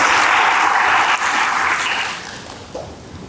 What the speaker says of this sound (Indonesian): Berikan tepuk tangan yang hebat bagi Tuhan.